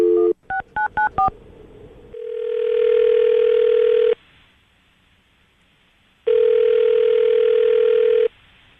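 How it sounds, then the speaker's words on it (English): A phone call being placed: a quick run of dialing tones, then two long steady ringback tones separated by a pause of silence, loud and close, with no talking. "we're going to call her right now and see if we can get her on the phone"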